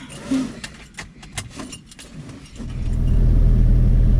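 After a few seconds of clattering and clicks, a small aircraft engine turns over and catches, settling into a loud, steady roar.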